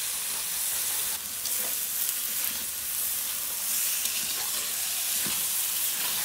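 Eggplant frying in a pan with dried loitta fish, potatoes and spices in a village-style Bengali curry, a soft, continuous sizzle and hiss with light stirring scrapes, moderately faint and steady.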